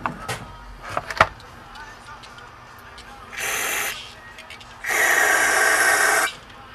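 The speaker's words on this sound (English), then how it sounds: "Spraying through, making sure everything's coming out of somewhere." Carburetor cleaner sprayed from an aerosol can through a Mikuni BSR36 carburetor off a Suzuki DRZ400, two close hissing bursts, a short one then a longer steady one, after a few small clicks and handling noises.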